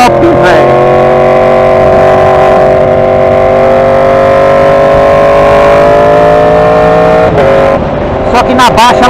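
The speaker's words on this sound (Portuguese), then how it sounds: "o escapamento à tala na menina ficou top, velho" Yamaha R1 sport motorcycle with an open exhaust revving loud and close, a sustained engine roar holding steady before a few sharp throttle blips near the end; a voice may be faintly present underneath.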